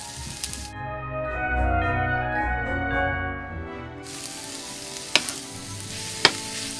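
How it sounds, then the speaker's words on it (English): Shrimp, chicken and vegetables stir-fried with oyster sauce in a hot pan, with a steady loud sizzle that surges as food is tossed, followed by a few sharp utensil clacks against the pan near the end. "So that was the Chinese sauce and the oyster sauce that I had stir fried with all three."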